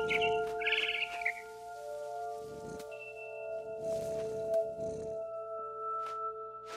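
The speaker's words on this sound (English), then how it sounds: "Then I heard chirping outside my window. It was a barn swallow going back to her nest." Short barn swallow chirps in a video game sound near the start over a steady synthetic hum, followed by soft rustling and scattered faint clicks.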